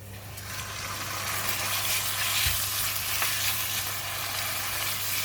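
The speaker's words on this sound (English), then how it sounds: "switch on the heat again. Now I'm putting in the meat." Pork meat goes into a hot pan for a bitter gourd stir fry in black bean sauce and sizzles loudly and steadily up close, the frying swelling slightly after the start, with no talking.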